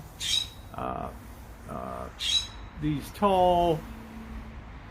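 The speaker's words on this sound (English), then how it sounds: "You wouldn't believe the hundreds of crows that come here at dusk and the racket that they make settling into these tall" Crows caw at dusk in tall pine trees, several harsh, separate squawks spaced out over a few seconds, fairly close with a faint background hum.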